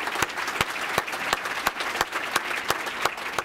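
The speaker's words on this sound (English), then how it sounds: "please join me in giving them a real loud hand of applause" Conference audience applauds at an opening session, a crowd clapping fairly loudly with a strong, regular rhythmic beat of unison claps, close and continuous with no speech.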